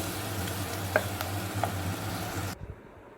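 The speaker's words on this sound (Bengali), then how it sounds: "গরম জলটা দিয়ে এখন এটাকে ভালো করে মশলাটাকে মিশিয়ে নিচ্ছি।" Spice paste frying in a pot as hot water is added and stirred in, giving a soft continuous sizzle with a few light utensil clicks before it cuts off near the end.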